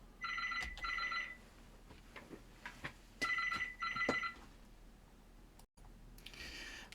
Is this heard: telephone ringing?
yes